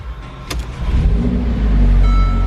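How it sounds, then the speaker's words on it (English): A 2018 Mercedes-AMG GLA 45 4MATIC engine starts up close by, a brief starter whir and click giving way to a rising, rumbling idle that grows louder and settles into a steady hum. "Let's go ahead and start the vehicle up here."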